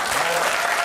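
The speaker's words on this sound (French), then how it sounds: "T'as écouté, applaudissements." Dense, steady audience applause fills a short burst at a French television talk show, loud and close with no voices rising above it.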